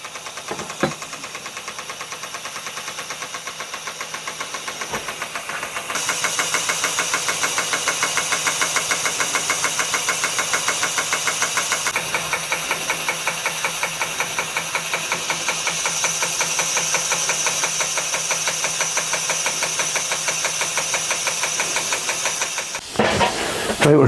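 A small model steam engine runs with a fast, even chuffing tick over a constant hiss of steam, close and steady for over twenty seconds, briefly quickening partway through.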